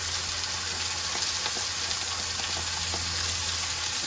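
Garlic paste and jambalaya seasoning fry in a pan with a steady, loud, close sizzle that holds unbroken throughout, with faint stirring clicks underneath and no talking.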